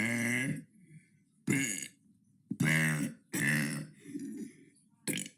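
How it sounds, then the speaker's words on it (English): A person lets out a series of loud, deep burps, five or six separate belches with short pauses between them, close and clear. "That was day 27 of burping for 100 days"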